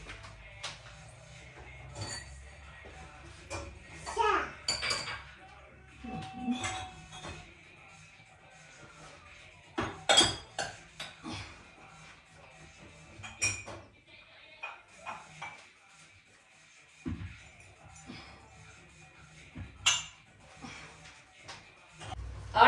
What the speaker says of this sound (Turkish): arkadaşlar, bulaşıkları yerleştireceğim.